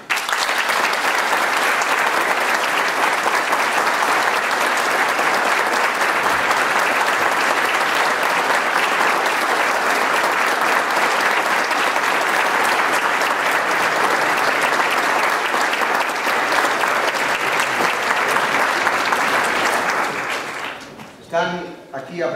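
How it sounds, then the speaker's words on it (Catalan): Sustained, loud audience applause fills a concert hall for a youth student wind band and its conductors at a 25th-anniversary concert, steady and dense for about twenty seconds before thinning out into scattered final claps. "els demane un fort aplaudiment per a elles i ells i les seues directores i directors"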